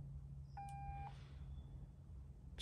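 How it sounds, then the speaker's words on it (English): An RC car motor emitting a short electronic beep tone after pairing with its Fusion Pro ESC, a single brief chime, faint and close, over a low steady hum. "then you let go and the motor's gonna beep"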